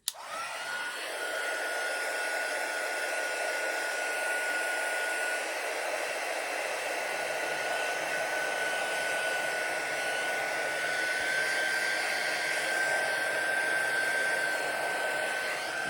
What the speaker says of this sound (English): Have any of you ever had your heat tool come on by itself?